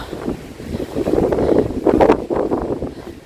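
Strong, gusty wind buffets the microphone outdoors in blustery Carlow, loud rushing surges rising and falling over a few seconds.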